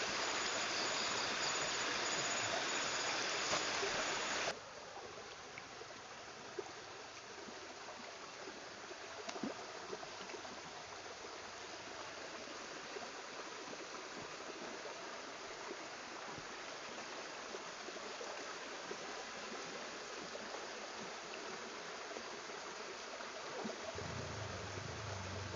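Clear river water of Kali Citiru flowing steadily with a soft continuous rush, fairly quiet and even, a louder burst in the first few seconds then a gentle constant babble.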